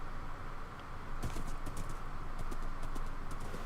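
A horse's hooves clip-clop steadily in a video game while passing through a sewer system, a quick patter of light hoof strikes over a low ambient hum, growing busier after a brief pause.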